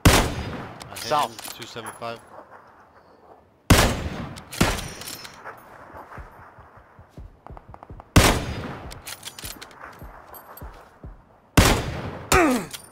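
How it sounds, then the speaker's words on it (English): Gunfire in the battle royale game PUBG: four sharp bursts of shots at roughly four-second intervals, each loud at onset then decaying, with players talking over them. "Alright, gunshot left."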